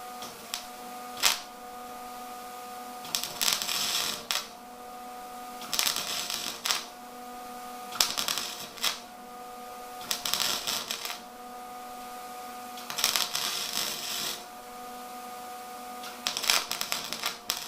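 Spot welder tacking a car's rear body panel during repair, a series of short crackling buzzy bursts, about one or two seconds each, repeating every couple of seconds close by over a faint steady hum, with no talking.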